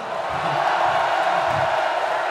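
Festival crowd at the Motocultor metal festival roaring and cheering in a dense, continuous wash of noise, broad and sustained with no pauses.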